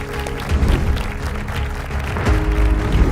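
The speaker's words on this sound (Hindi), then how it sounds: "तालियों से स्वागत" Steady applause from a crowd at a smart city conclave, a dense wash of clapping that continues evenly for a few seconds.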